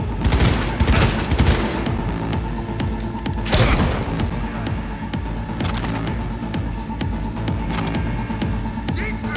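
Heavy gunfire in the video game Cyberpunk 2077: sustained bursts of automatic fire with booms and thuds, dense and loud throughout, with louder volleys early and in the middle.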